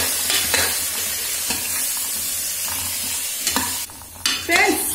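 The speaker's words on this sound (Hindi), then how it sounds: "सब्जी को लगभग हम 1 से 2 मिनट तक ऐसे ही भूनेंगे घी में।" Mixed vegetables and peas stirred and fried in ghee for moong dal khichdi: a loud, continuous sizzle under repeated spoon scrapes and clatters, growing busier toward the end, with no talking.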